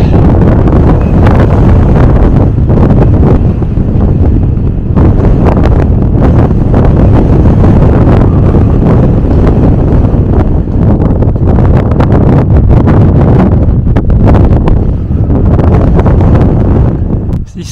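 Strong wind blows across the Cerdagne high in the Pyrenees mountains, buffeting the microphone with loud, continuous rumbling gusts throughout.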